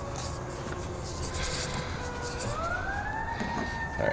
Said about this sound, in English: Lots of sirens this morning in our little town.